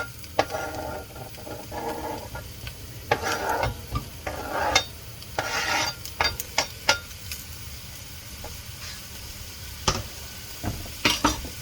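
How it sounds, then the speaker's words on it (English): Chopped onion dropped into hot oil for mushroom soup, with a soft sizzle under scattered clinks and scraping of a utensil against the pan, close and moderately loud. "So, what are we doing with that oil? We're adding onion."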